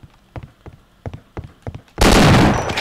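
A shotgun blasts once in the first-person shooter Half-Life: Opposing Force, a loud, broad burst after a run of short, sharp in-game clicks and thumps.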